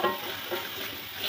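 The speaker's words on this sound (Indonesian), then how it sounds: "ayam tambahkan minyak ya, kita goreng sampai matang" Chicken pieces fry in oil in a wok, giving a dense, close sizzle and crackle that holds steady from start to finish.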